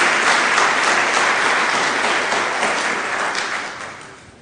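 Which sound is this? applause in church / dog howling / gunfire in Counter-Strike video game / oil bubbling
applause in church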